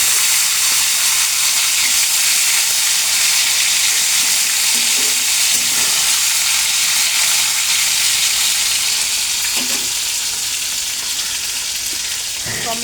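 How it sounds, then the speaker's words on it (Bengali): Black cumin and tomato fry in a hot wok, sending up a loud, steady sizzle and hiss that runs unbroken throughout, with a few faint stirring clinks. "এবার কড়াইতে একটু দেব কালো জিরে, দিয়ে কালো জিরেটা একটু হলে একটু দিয়ে দেব টমেটো।"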